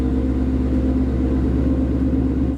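A 2018-2023 Ford Mustang GT fitted with a Corsa 3-inch Active Sport cat-back exhaust runs in normal mode, giving a steady, deep, loud engine drone with a throbbing low rumble that eases slightly at the very end.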